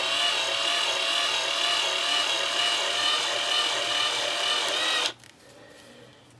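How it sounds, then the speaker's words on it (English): A steady, loud mechanical whirring drone with a grinding texture, a drill turning a clay extruder, runs for about five seconds, then cuts off abruptly into near quiet. "just turn your drill on and see how the clay"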